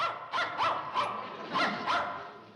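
A dog barks five times in an uneven series, fairly close and loud, with no talking over it.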